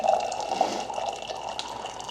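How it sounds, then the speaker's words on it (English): Hot water for coffee streams into a cup with a bright, steady gurgling pour, close and fairly soft, lasting a couple of seconds with no voices. "Just getting some hot water over here."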